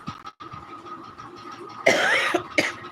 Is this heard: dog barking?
no